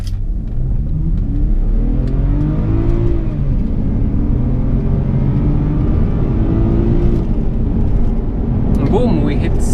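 A 2005 BMW 525xi E60 with xDrive, in sport mode, accelerates from 0 to 60 mph, its engine note rising steadily and loudly through the gears from inside the cabin, with brief speech near the end.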